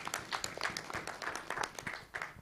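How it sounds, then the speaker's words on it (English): Members of a business meeting applaud together, a short burst of scattered hand claps at moderate volume with no talk over it. "Members, I think we should definitely applaud for 5 thank you slips."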